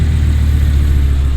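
A naturally aspirated V10 engine in an Audi R8 V10 Spyder idles and burbles with a deep, steady rumble, loud and close, no voices.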